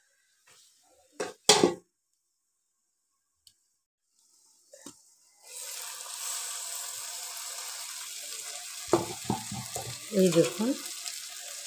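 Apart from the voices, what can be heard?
mourala fish frying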